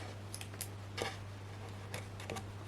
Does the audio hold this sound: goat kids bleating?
no